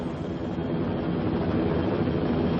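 A military helicopter drones in a steady, loud, broadband roar of rotor and engine noise that continues unbroken with no voices.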